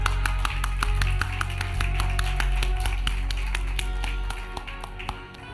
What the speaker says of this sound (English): Come on, let's give another clap offering